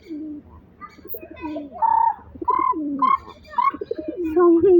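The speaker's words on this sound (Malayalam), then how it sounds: "വല്ലാത്തൊരു സൗണ്ട് ഉണ്ടാക്കുന്നത് നോക്കി ഇത് ഒരു പ്രാവിൻ്റെ ലോകം തന്നെ" Pigeons coo close by in a steady run of throaty, rolling calls that rise and fall, with some softer chirps from other birds mixed in.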